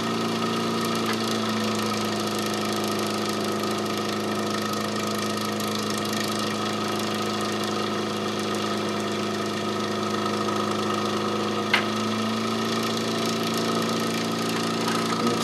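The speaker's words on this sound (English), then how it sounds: "The motor slowed down and took more current." A Stefan Marinov motor-generator runs under electrical load with a steady mechanical hum and whine and a faint rhythmic knock, close and continuous with one brief click near the end.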